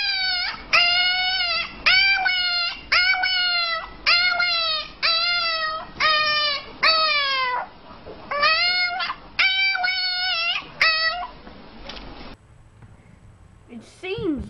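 A puppy whimpers and howls in a long run of rising and falling, voice-like yelps with short pauses, close and loud, ending in quieter background noise.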